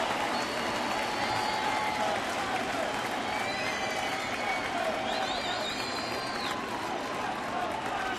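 A baseball stadium crowd cheers and roars steadily at a Kansas City at Detroit game, broad and distant-sounding, with whistles rising over the wash and a commentator's voice talking above it.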